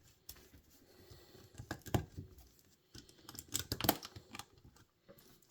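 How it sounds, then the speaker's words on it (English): LEGO plates being pressed and clicked together while building a giant LEGO pencil, a faint series of small sharp plastic snaps and rustles in irregular bursts, close and quiet with no talking. "It's just a lot of tedious clicking plates together."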